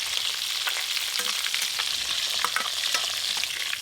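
Chicken pieces sizzle steadily as they are lightly fried in hot oil, a dense hiss with frequent crackles and spits, close up and unbroken.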